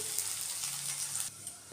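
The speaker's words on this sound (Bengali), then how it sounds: "এদিকে একটু অল্প করে আলু ভাজাও বসিয়ে দিয়েছি" Loud, steady sizzling of potatoes frying in oil in a pan, close up, easing off near the end before a brief stir.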